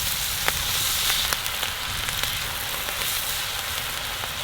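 Salmon sears on a hot Kamado Joe grill, a steady close sizzle and hiss with small pops and crackles scattered throughout, no voices over it.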